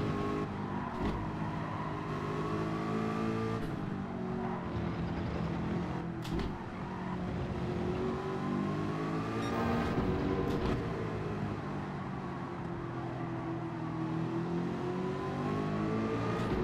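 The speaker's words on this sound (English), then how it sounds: "That Porsche is much nicer through the middle sector than this 4GT." Porsche race car engine in the Gran Turismo racing game, a loud continuous drone that rises and falls through the gears across the lap, with no talk over it.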